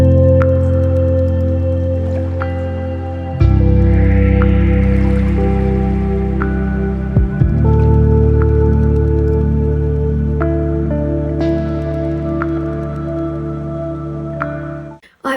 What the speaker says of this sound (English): It is clean octave tremolo.